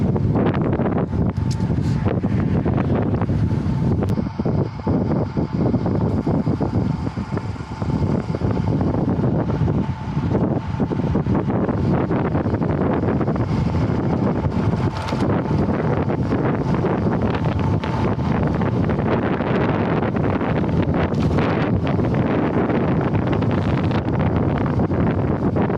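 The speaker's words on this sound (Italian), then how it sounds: "Che smeno col vento!" Strong wind buffets the microphone while cycling uphill through the Collio–Brda hills on the Italy–Slovenia border, a loud continuous rumble with gusty surges and rustling, no voices over it.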